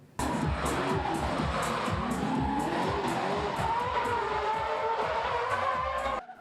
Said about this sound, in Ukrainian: Гуркіт моторів, дим від шин і море драйву на спеціально облаштованій трасі